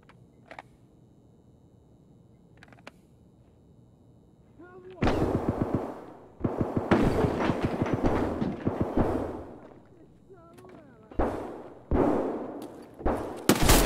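A scav firing in the video game Escape From Tarkov: quiet opening ticks, then loud bursts of gunshots in irregular clusters, some long and rapid, separated by brief pauses.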